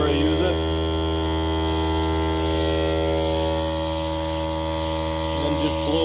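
A shop air compressor hums steadily and loudly as it runs and builds pressure, a constant close drone with a slight buzzing edge and no pauses.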